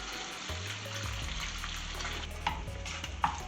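Brown pan gravy with onion sizzling in a hot pan, a steady frying crackle and hiss with a low hum underneath and occasional stirring clinks.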